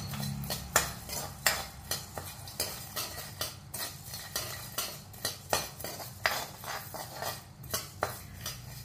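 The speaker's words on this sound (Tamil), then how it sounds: "இப்ப முதல் மல்லியை போட்டு வறுத்து எடுத்துக்கிறேன்" Coriander seeds dry roasting in a pan for rasam powder, stirred with a metal spoon in steady scraping, clinking strokes roughly once a second, close and fairly loud with a faint sizzle underneath.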